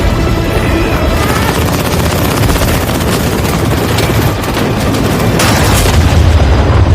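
General Kim's forces shoot at Carter in an action film scene: loud, relentless automatic gunfire with booming blasts layered into a continuous, dense barrage that lasts the whole time.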